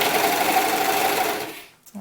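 Electric sewing machine stitching fabric for a doll's sunsuit, a loud close steady whirring run that slows and stops near the end, followed by a brief soft clunk.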